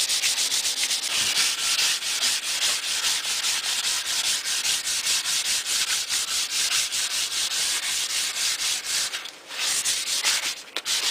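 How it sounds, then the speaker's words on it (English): A wooden gun stock is sanded by hand with sandpaper wrapped around a pad, making a steady, close, loud rasping scrape in quick back-and-forth strokes that barely pause for eleven seconds. "wrap the sandpaper around there. Just put the pressure on there and start going it down again"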